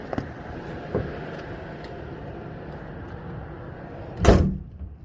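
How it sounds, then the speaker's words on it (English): A delivery truck's door is locked with a single loud clunk near the end, following a low steady idle with a few faint knocks before it. "Problem is locking the door."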